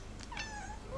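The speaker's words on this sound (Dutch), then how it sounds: "poes" A cat gives a short, faint meow, rising then trailing off, against a low background hum.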